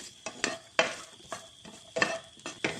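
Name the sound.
onions frying in wok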